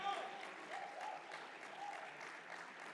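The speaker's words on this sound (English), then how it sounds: "I would like to give a huge round of applause to them as well" An audience at an annual international seminar of a chartered accountants' chapter in Abu Dhabi applauds committee members, giving steady, fairly faint clapping from a roomful of people with a voice briefly heard over it.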